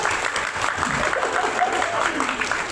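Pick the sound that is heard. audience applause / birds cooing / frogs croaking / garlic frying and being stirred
audience applause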